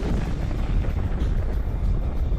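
Deep, sustained explosive rumble with a dense crackling roar, loud and continuous throughout without a distinct single bang.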